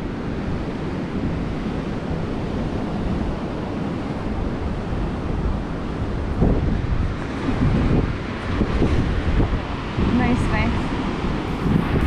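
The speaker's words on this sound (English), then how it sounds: "So the tide is coming in right there and we're right here." Ocean waves on the Oregon coast at Seaside as the tide comes in, a continuous roar of surf mixed with buffeting wind on the microphone, swelling louder midway through.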